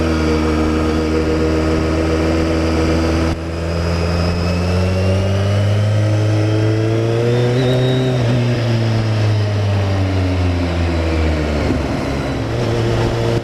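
BMW K1300S motorcycle engine pulling hard while riding, its loud steady drone rising and falling in pitch through gear changes, with a brief dip around the shift and continuous wind rush.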